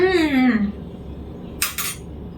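A metal spoon scoops chocolate peanut butter from a jar in a home kitchen, making a short scraping clatter that follows a brief spoken exclamation.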